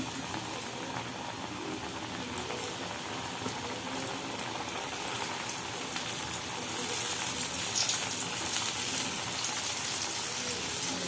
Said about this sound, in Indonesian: ini minyaknya udah panas, jadi langsung saja kita goreng tempenya